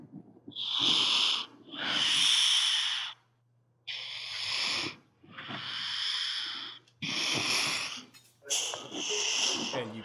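An angry chameleon in Malta gives six loud, breathy hisses, each lasting about a second, with short pauses between them; a faint low hum from diners lies underneath.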